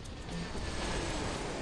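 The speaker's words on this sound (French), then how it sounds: "John Murray prend alors l'avion avec Gary Carr pour se rendre à l'autre bout du pays" A steady airplane engine drone at moderate distance, a continuous even roar with no breaks and no speech over it.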